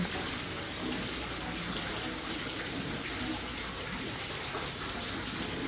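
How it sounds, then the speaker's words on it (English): Continuous splashing and gushing of a small waterfall, steady and close, with no pauses throughout, inside the Josephine Tussaud Wax Museum. "Got a little waterfall here."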